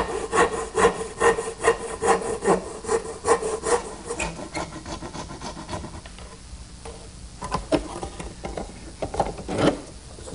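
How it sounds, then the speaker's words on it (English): A dovetail saw cuts a notch into the bottom of a wooden tenon, giving steady, close back-and-forth rasping strokes in a quick rhythm, then a brief pause before a few slower strokes resume. "Now here I'm using my dovetailing saw to notch the bottom of the tenon."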